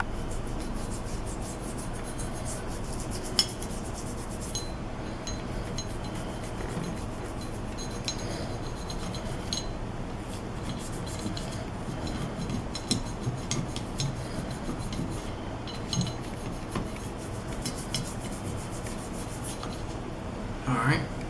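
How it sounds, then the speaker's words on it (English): A Glock 17 pistol slide gets its rail channels scrubbed during cleaning, giving a steady, close rubbing and rasping that runs continuously for about twenty seconds at low level with faint room noise. "So you just need to scrub as much as you can."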